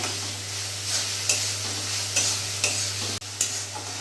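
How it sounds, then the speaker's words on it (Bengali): Spice masala with chopped tomato is stir-fried in a pan over medium heat: a close, continuous sizzle broken by several scraping strokes of a spatula at a loose, uneven rhythm, with no talking. "ভালো করে কষিয়ে নেব মশলাটা"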